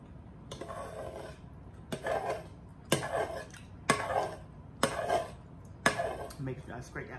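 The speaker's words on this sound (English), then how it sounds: "Make sure I scrape that pot" A stirring spoon scraping and knocking against a pot in six separate, evenly spaced strokes, each opening with a sharp clack and trailing into a rasping scrape, close up and fairly quiet.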